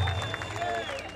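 Applause from a crowd at an outdoor evening show of marching bands and fanfare corps in Três Lagoas, a short steady burst of clapping with tonal band sounds lingering behind it.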